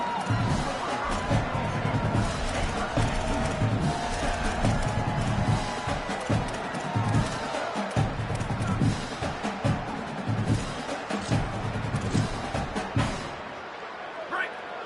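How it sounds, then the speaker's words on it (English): At a Michigan football game, a dense stadium crowd roars continuously, filling the whole stretch at a fairly even level with a voice talking over it. "The roar of the crowd trying to fuel this defense to keep them pinned in their own end"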